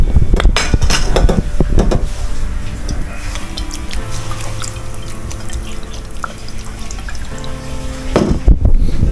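Metal clinks and knocks as a lid goes back onto a cooking pot after fish sauce is added, a few sharp clatters early on, then a quieter hiss and bubbling with another lid rattle near the end.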